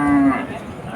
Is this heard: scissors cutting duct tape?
no